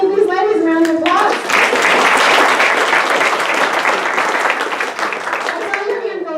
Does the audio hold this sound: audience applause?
yes